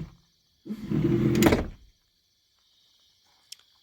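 A rough, sticking door slides open with a grinding scrape lasting about a second, nearby and fairly loud, followed by quiet and a faint small click.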